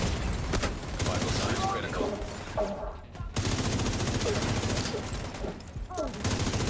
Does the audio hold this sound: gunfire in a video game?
yes